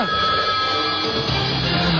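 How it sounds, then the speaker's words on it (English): A radio studio's telephone line rings with a steady, continuous electronic trill that stays loud and even throughout, sitting over a faint broadcast bed with no speech. "Celebrity line ringing."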